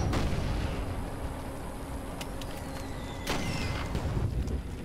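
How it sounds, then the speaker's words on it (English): Artillery fire in the Toy Soldiers game, heavy booming shots with rumbling, windy low-end battle noise; one sharp report at the start and another around the middle. "I hear artillery over here to the left."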